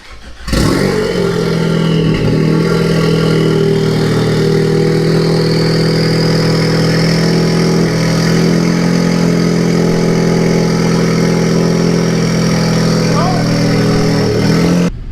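A steady low exhaust drone hums inside a Ford Focus ST with a Flowmaster Outlaw exhaust, constant and fairly loud throughout, with a faint whine rising on top.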